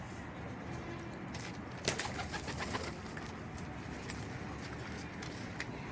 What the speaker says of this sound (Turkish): Evet, kuşlarımız alçaldı.